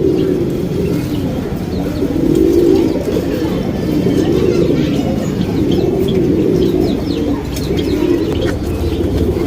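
Pigeons kept for sale in Bangalore coo repeatedly in low, rolling phrases that pulse at a steady rhythm. They are close and fairly loud, with a few faint chirps in the background.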